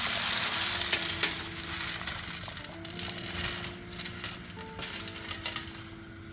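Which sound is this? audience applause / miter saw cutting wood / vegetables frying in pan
vegetables frying in pan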